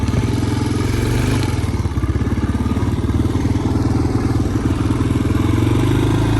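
A 1985 Honda ATC 250SX three-wheeler engine while riding, a loud, close, steady motor drone with rapid pulsing firing and some clatter throughout.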